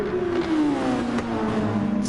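Formula race cars, a Mercedes against a McLaren, in a racing video game on the Nordschleife, their engines holding a steady, high, whining drone that slides slightly lower in pitch, loud and continuous with no talk.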